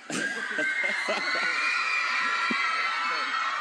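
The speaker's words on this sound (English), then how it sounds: "I think we can let them scream as long as they want to." Fans scream and shriek loudly and continuously at a Twilight Breaking Dawn fan event in Brussels, a dense, high-pitched roar from a packed room with brief voices over it.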